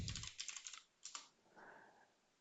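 Typing on a computer keyboard, a quick run of close, crisp key clicks followed by a brief pause, a short second burst, then a softer trailing sound.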